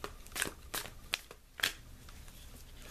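Tarot cards are shuffled close by in quiet surroundings, giving several sharp papery riffles and snaps spaced irregularly across a few seconds.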